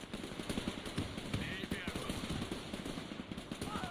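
Machine gun fire from the World War II strategy game Men of War 2 rattles in rapid continuous bursts, moderately loud, under game chatter and noise.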